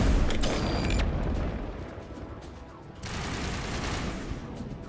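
Sniper gunfire and battle noise in the video game Mass Effect on the Virmire mission, a dense volley of shots and booms at the start, easing into a low rumble, then another burst of firing; no clear speech.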